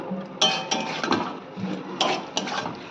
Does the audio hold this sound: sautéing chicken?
yes